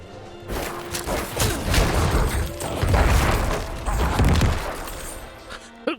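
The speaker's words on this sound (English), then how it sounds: "Corpse explosion, so fucked." Corpse explosions burst repeatedly in Diablo IV, a busy run of heavy booms and crashing pops layered over constant combat noise, loud and close, with no one speaking.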